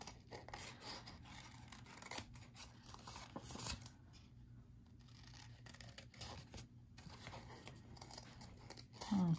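Scissors fussy-cut paper for a rustic Christmas craft, giving a close, quiet series of irregular snips and rasping slides, with paper rustling and pauses between cuts.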